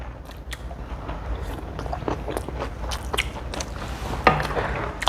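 Close chewing of food, probably pork bulgogi or brisket, with soft wet bites and crunches repeating irregularly at a steady pace, fairly near and without talk.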